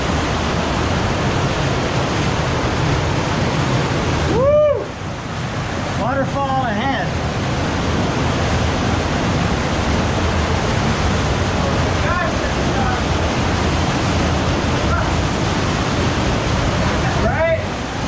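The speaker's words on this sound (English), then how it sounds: "Waterfall." A waterfall on the Thunder River trail in the Grand Canyon roars as a steady, loud, close wash of falling water, with a few brief voices breaking in over it.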